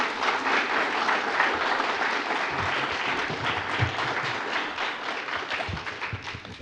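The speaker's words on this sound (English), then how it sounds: "Round of applause for our sponsors." An audience gives sustained, dense applause for the sponsors at a live evening performance, the clapping steady and fairly loud with a few low thumps mixed in.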